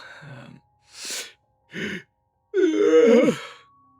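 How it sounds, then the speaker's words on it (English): A tabletop role-playing player voices a drawn-out, sighing yawn for a character waking early on a trail; a few short breathy vocal sounds come first, and no ordinary speech is heard. "Let's have a little yawn."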